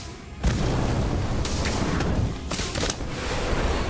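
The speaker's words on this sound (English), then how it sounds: "Incendio!" An Incendio fire spell bursts in a Harry Potter game with a sudden whooshing blast, followed by a roaring fiery rush and a couple of further crackling pops, loud and continuous.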